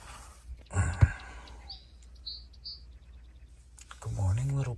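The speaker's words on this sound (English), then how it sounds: "Some little bird is up there having fun on my roof." A little bird on a minivan roof gives a few short high chirps in quick succession, faint and slightly distant, between bursts of nearby talking.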